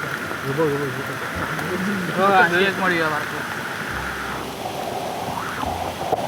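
Steady monsoon rain hisses throughout while people fishing with cast nets in the Konkan talk over it nearby, with a few brief louder bursts in the downpour.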